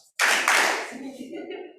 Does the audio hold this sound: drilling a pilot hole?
no